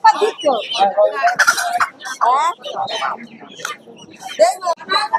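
Chickens cluck and squawk loudly and close by at a village poultry market in Sarisha, South 24 Parganas, where ducks are also sold, a busy overlapping chorus of calls with short pauses between bursts.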